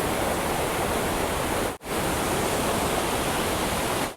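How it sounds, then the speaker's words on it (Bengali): Rushing water of Dangaddi waterfall near Simdega, Ranchi, a loud, continuous broadband roar close by, broken only by a momentary dropout partway through, with no voices over it. "দানগাড্ডি ওয়াটারফলস, জলের স্রোত দেখুন এখানে, বিভৎস স্রোত।"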